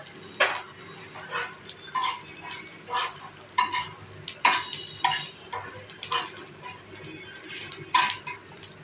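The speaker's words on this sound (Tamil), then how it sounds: "சீரகத்தையும் எல்லையும் கூட போட்டு பொரிக்கணும்." Cumin and sesame seeds frying in a pan, giving a series of sharp crackles and clinks at an irregular, roughly steady pace, close and fairly quiet.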